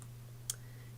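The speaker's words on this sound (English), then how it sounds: "And this last one I'll double click" A computer mouse clicked while working in Stitch Artist embroidery software: a single faint, sharp click over a low steady hum, with a second even softer tick near the end.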